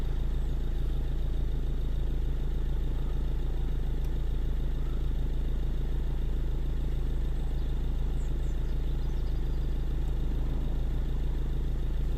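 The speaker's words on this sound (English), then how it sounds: "I'm gonna try to read with the engine running." A Ford Mondeo with an engine malfunction runs at a steady idle, a loud continuous low hum with faint clatter and no change in pace.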